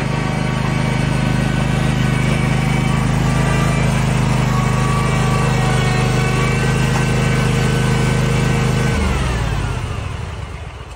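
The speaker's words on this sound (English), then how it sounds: "I got me a mower." A lawn mower engine runs steadily and loudly, a constant droning hum that holds for about nine seconds, then its pitch drops as it winds down and quiets.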